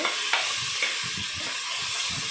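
Masala for country chicken gravy sizzles steadily in a hot pan, with a constant bright frying hiss and a few soft scraping stirs of a spoon, close by and with no talking.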